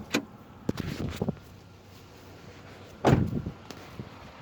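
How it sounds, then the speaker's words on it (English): A car hood with a 3.8 V6 underneath is popped open: a few close mechanical clunks and rattles, then one louder thud, with quiet gaps between. "We'll pop the hood."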